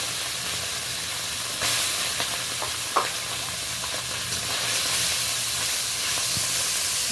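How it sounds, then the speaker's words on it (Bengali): Small mourala fish coated in salt and turmeric fry in a little oil, giving a steady close sizzling hiss with a few faint clinks and pops, no voices. "এবার আমি মাছগুলোকে অল্প অল্প করে ভেজে নেব।"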